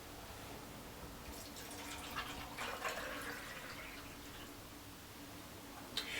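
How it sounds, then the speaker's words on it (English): Twelve ounces of clean water poured into the clean-water side of a Lulumia makeup brush cleaner machine, a quiet trickling and splashing fill that swells midway and ends with a faint drip. "I'm just going to add the 12 ounces of water onto this side, which is where you would add all of your clean water"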